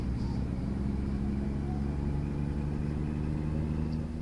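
Truck engine rated at 525 in the American Truck Simulator video game, a steady low rumbling drone that holds at an even level throughout with no talk.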